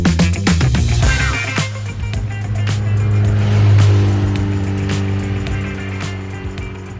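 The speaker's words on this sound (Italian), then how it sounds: "con Cristiano Luzzago alla guida di un magico scorpione firmato Francis Lombardi." An Abarth 1300 Scorpione with Francis Lombardi bodywork is driven on the road. Its engine drones steadily and fairly loud, with a low humming tone that swells and eases slightly over the few seconds. Tire and road noise run beneath it, and no one speaks.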